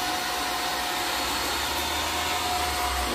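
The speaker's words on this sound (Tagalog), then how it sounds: "Magdadry muna ako ng hair dryer natin." A ten-year-old hair dryer blows continuously with a steady, close whooshing hum and a low motor drone, unchanging throughout.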